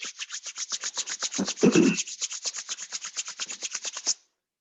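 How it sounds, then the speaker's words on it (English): Palms rubbed briskly together during a yoga session, a close run of about twenty quick, even swishing strokes with one heavier rub partway through, stopping abruptly into silence. "Rub your palms."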